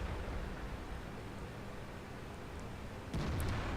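A World of Tanks tank cannon fires once near the end, a sudden low boom breaking through a faint, steady rumble of battlefield noise.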